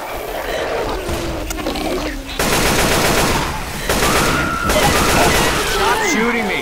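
Loud bursts of rapid automatic gunfire in the zombie shooter Left 4 Dead 2, steady stretches of rattling fire with brief gaps, while players' voices talk over the shooting.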